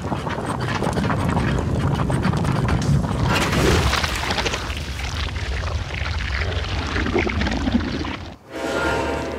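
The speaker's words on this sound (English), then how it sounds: "Now you light the fire and take a step." A brewing fire is lit in the video game Black Book, producing a steady, loud roaring whoosh of flames that continues, briefly dips to near silence and then surges back.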